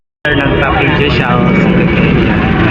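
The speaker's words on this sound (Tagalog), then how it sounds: "Yan, may drone din, oh." A drone flies at the Asian Defense and Security Exhibition 2024 at the World Trade Center Philippines, its steady buzzing whir filling the space beneath loud crowd chatter and nearby talking.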